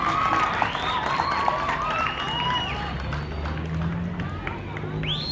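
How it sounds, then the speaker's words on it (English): An audience at a festival opening applauds and cheers steadily throughout, with crowd noise and whistles or shouts rising above the clapping. "Let's give her another round of applause."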